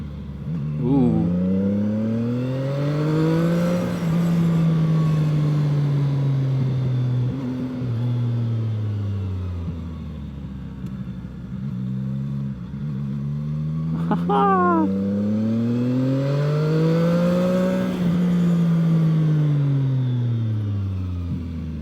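A CFMOTO 675NK motorcycle engine under riding load, loud and close, its drone swelling and easing in long repeated rev cycles with a brief sharper rise midway.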